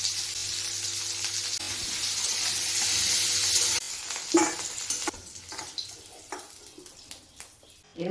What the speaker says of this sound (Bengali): তেল দিয়ে দিচ্ছি, আলুগুলো ছেড়ে দিলাম, হলুদ দিচ্ছি, একটু নুন দিচ্ছি।